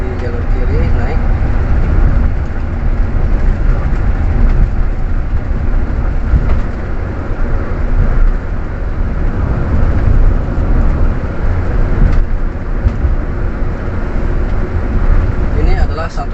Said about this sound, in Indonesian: Tinggal kita kondisikan saja gerakan mobil yang pelan, yaitu 60 km per jam.